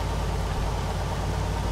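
Mercedes-Benz AMG idling in a video game, a steady low rumble with a continuous engine drone that stays even and unchanging throughout.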